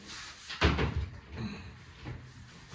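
A cupboard door in a modern apartment swings shut with a soft thud, followed by a few lighter knocks and rustles of handling, close by in a quiet room with no talking.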